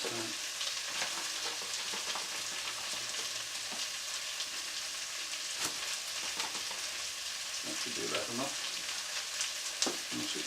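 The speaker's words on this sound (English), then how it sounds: "just keep on stirring the onions, make sure they're not burning" Onions fry in a pan for a French onion soup, giving a continuous close crackling sizzle with scraping stir strokes throughout and no talking.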